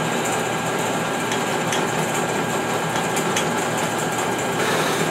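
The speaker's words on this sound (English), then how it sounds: "And yes, I'm drilling without any fluid stuff." A drill whines steadily and loudly through metal without cutting fluid, a continuous high-pitched grinding hum with no pauses.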